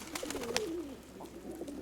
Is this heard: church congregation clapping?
no